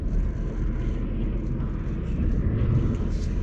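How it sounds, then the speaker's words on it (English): A jet aircraft passing high over a Colorado mountain bikepacking route, heard as a steady, broad rumbling roar that holds at an even level throughout with no talking over it. "Oh, you know that's a jet."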